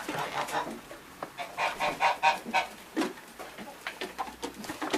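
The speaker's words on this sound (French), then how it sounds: "Et je lâche en même temps les oies." Geese honk loudly and repeatedly at close range, a noisy overlapping chorus of calls with no talking.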